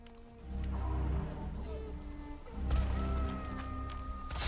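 A built structure in the video game Valheim collapsing, with low rumbling crashes and a renewed heavy burst midway, rolling on loudly for several seconds alongside faint game tones.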